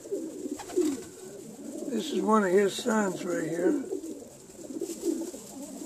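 Breeder cock pigeons coo in a loft, a few rising and falling throaty coos close by, with someone talking softly over them.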